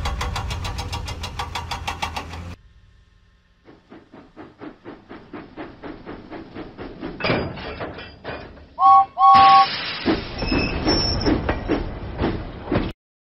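A cartoon steam engine from a Thomas and Friends lift, load and haul video game, with rhythmic chuffing puffs that speed up, a two-note whistle and a louder burst of steam toward the end.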